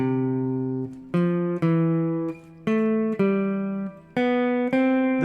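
Several sustained tuned tones play one after another, each starting sharply, stepping through a short sequence that settles onto a stable final note.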